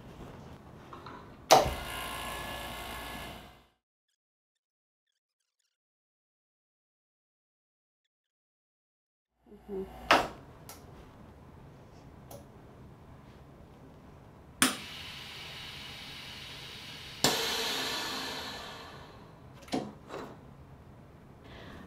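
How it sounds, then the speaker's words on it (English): A chamber vacuum sealer hums under clicks and clunks while sealing an avocado, then goes silent for several seconds while the cycle runs, followed by hissing air release and more mechanical clunks. "It's gonna run through the whole process and we'll have a completed vacuum sealed avocado"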